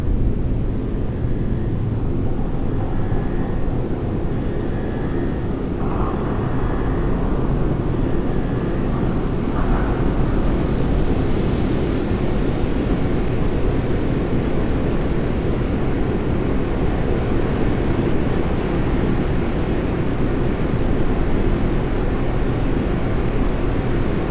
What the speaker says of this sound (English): Rocket boosters ignition start. Engines ready in 5, 4, 3, 2, start, 1. We have liftoff!